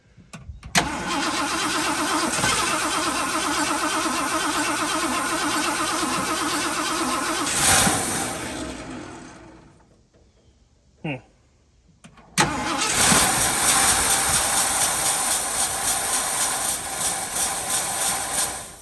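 A Ford F350 truck left abandoned for 22 years cranks over with a long, loud, rhythmic churning that stops, then resumes after a short pause, with people talking around it.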